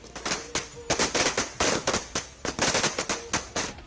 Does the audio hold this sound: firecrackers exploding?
yes